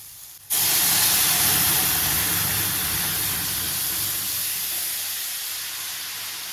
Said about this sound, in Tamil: இப்போ கரைச்சி வச்ச ரசத்தை இதில் சேர்த்துருவோம்.